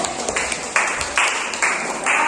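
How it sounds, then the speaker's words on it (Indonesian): A classroom group applauds a presenting student team, loud, close hand claps filling the room in bursts that swell and recede roughly every half second, with no talking over them. "Kita kasih tepuk tangan ya untuk kelompok 1."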